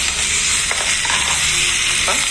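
Vegetables sizzle and fry in a hot tempering oil seasoned with turmeric powder, a steady bright crackle with a few stirring scrapes, loud and close, with no voices.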